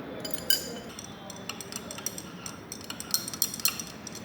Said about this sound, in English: Stir it with the glass rod